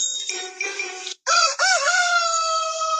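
A rooster crows loudly and close by in a rural setting, two drawn-out calls separated by a brief break.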